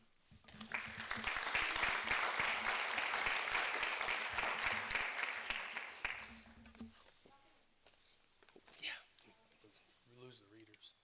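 Applause from an audience for award winners at a school board regular session: a sustained round of clapping that swells and then fades out after about six seconds, followed by a voice speaking.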